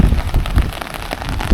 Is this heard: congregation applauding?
no